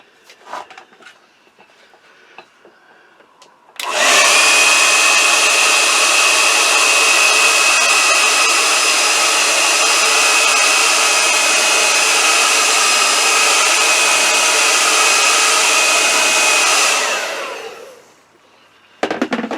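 A hair dryer blasts to dry a watercolor painting, switching on after a few quiet seconds of small handling noises, roaring loud and steady for about thirteen seconds close by, then cutting off and winding down.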